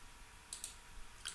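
A computer mouse clicked a few times, faint, sharp little ticks in a quiet room with no other sound.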